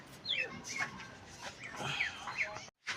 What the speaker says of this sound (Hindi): अब इनको भी दाना डालते हैं और इस मुर्गे के अंदर जाके सेटिंग करनी है ताकि ये ब्राउनी को इसके साथ छोड़ दिया जाए।